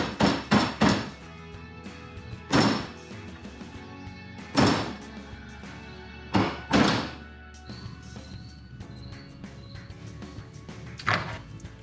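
A hammer drives a punch into a Coleman crank's left-hand chain drive assembly: sharp, close metallic blows, first a quick triple, then single or paired strikes spaced a couple of seconds apart, with no talking.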